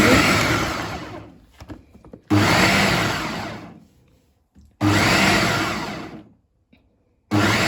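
A food chopper minces chicken thighs for kebab in three loud, steady whirring bursts of about two seconds each, separated by short pauses with faint handling clatter.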